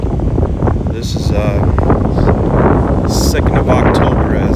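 Strong wind in Tombstone, Arizona, roaring steadily against the microphone as a loud continuous rumble, with a person talking over it.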